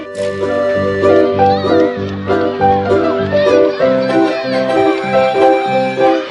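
Children's voices mewing and calling out in a playful cat imitation, loud and close, several short meows overlapping with excited chatter.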